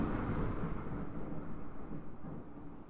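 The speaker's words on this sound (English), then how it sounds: "Don't know if you could hear that, but it is about to thunderstorm outside." Thunder from an approaching thunderstorm outside rumbles as a deep, continuous low roll heard from indoors, rising and falling gently without sharp cracks and with no talk over it.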